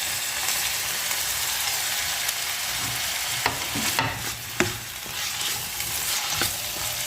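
Ginger and garlic sizzle in hot oil in a pan for aloo palak, a continuous close frying hiss broken by a few sharp stirring scrapes and clinks, with no talking.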